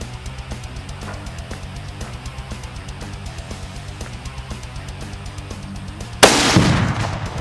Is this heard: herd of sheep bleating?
no